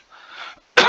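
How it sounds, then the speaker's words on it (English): A person coughs close to the microphone: a muffled throat sound followed by one sharp, loud cough. "I apologize for the coughing."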